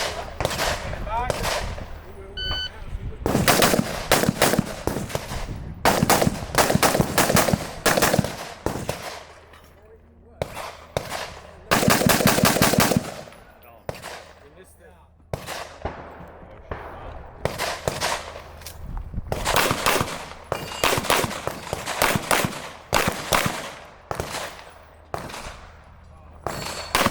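Rapid bursts of rifle fire from a PSA Sabre rifle at an outdoor multi-gun match crack out in repeated volleys with short pauses between strings, loud and sharp, with occasional talk between bursts.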